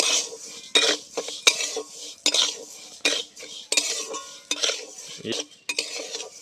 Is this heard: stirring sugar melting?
yes